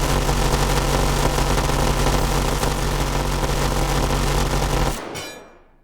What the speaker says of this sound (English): now that's a machine gun